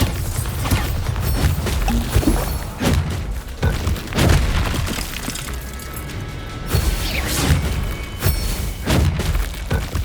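Bombarda explosion spell in the video game Hogwarts Legacy, a series of heavy crashing blasts and thuds with shattering debris, loud and close, repeating every second or two with rumbling between impacts.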